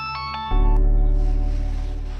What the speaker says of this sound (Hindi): नाम लिया और फोन भी आ गया। चल फोन उठा।